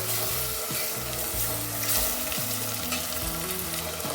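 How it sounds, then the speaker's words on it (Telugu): Chopped tomatoes frying in a pan for Andhra-style small fish curry, a loud continuous sizzle with occasional stirring scrapes, close and without talk. "ఇప్పుడు ఇందులోకి మనము టమాటోస్ వేసుకుందాం చిన్నగా కట్ చేసుకొని వేసుకోవాలండి"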